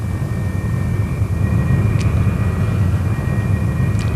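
Messerschmitt Me 262 jet engine roaring steadily and loudly in flight, a continuous broad rumble with a faint high whine running through it.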